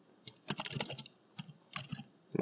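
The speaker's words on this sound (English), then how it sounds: "I'm actually typing which ping is that." Keys clatter on a computer keyboard in two quick close-up bursts of typing separated by a short pause, with a final keystroke near the end.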